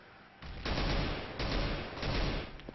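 Bursts of AK rifle fire in a competitive first-person shooter match, dense rapid volleys in several loud clusters filling nearly three seconds, with no voices over them.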